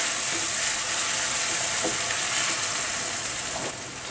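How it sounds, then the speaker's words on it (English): Onion with ginger and garlic paste frying in a pan for a spicy ridged luffa curry, a loud, continuous close sizzle with a few faint stirring clicks near the end. "Add ginger and garlic paste. Let it cook raw flavor of ginger and garlic paste for a while."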